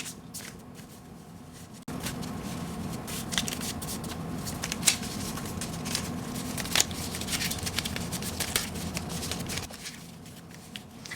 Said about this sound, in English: I'm usually better at shuffling cards, but this isn't on cardstock. It's on paper. So it's a bit difficult to shuffle.